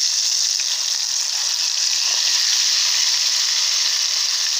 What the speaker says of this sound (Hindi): देखिए तेल गर्म हो चुका, अब मैं इसको डालूंगी मरल मच्छी को।